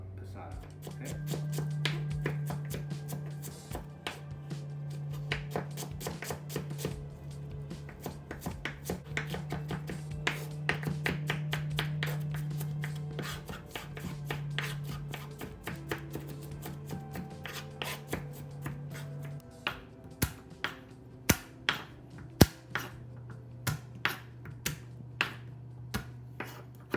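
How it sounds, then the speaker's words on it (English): Garlic being chopped on a board into a coarse, rustic cut, a steady run of close knife taps over a low background hum, giving way to sparser, sharper single chops near the end. "Garlic doesn't have to be cut fine, I just like it chopped, kind of a rustic look."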